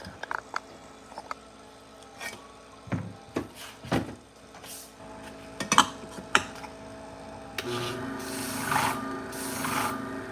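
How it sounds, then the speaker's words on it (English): Pet grooming shears drawn across a flat sharpening hone: a run of separate short rasping strokes, then a steadier, louder scraping toward the end, close and alone with no talk. "So here we go back to the flat hone."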